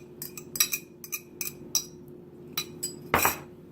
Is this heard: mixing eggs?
yes